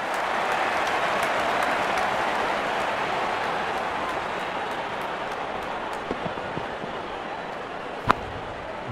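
A virtual stadium crowd in the Real Cricket 22 video game applauds and cheers a six, a steady broad roar of clapping lasting throughout, with a couple of sharp louder claps near the end.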